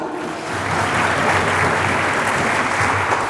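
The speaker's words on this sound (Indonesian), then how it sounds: "Tepuk tangan untuk Tuhan." A church congregation claps together in sustained applause, a broad, even roar of many hands swelling slightly and holding steady, with a low hum beneath it.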